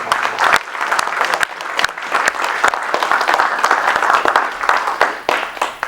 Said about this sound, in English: So let's just give Dave one more round of applause.